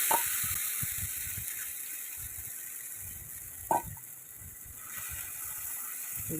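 Potato batter sizzles quietly in a pan with mustard seeds for potato cutlets, a soft continuous frying hiss broken once by a brief utensil clatter midway.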